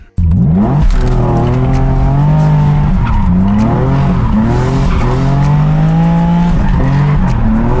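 A Nissan 350Z on a shakedown drive, its engine loud and close as it climbs and falls through revs in steady sweeps, with tyre squeal at times and no talking.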